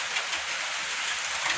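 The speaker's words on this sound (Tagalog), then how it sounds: "kasi umuulan sa labas" Steady rain falls outside, a continuous broadband hiss of drops with no distinct individual hits, fairly loud and unbroken throughout, with no voices.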